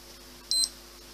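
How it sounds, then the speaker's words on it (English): A single short electronic beep from a SPINTSO REF WATCH 2X referee watch, clear and brief against quiet background hiss. "Action is confirmed by a beep"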